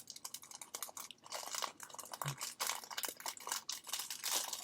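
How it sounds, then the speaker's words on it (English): Plastic packaging from a subscription box crinkles and rustles in close, uneven bursts as it is pulled open and handled, loud and steady with no talking over it. "So the next thing we have is in a plastic bag."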